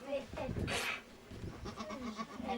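A small lamb bleating in a village in Tercan, Erzincan, Turkey, a short wavering bleat amid nearby voices and outdoor farm ambience.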